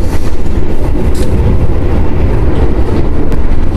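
Loud, steady rumble of the Argo Lawu executive train rolling along the rails, a continuous roar with faint rhythmic clatter and no voices.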